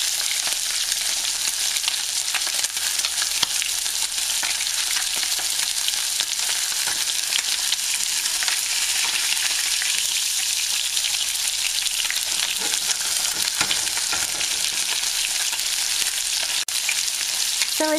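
Salmon fillet sears undisturbed in a hot pan, a steady dense sizzle and crackle holding evenly throughout, close and fairly loud with no voices.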